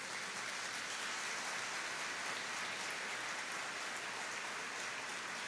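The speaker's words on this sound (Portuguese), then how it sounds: "Vamos aplaudir o Senhor Jesus" A church congregation applauds together in steady, sustained clapping that fills the room evenly without pause, sounding like a dense wash of hands with no voices over it.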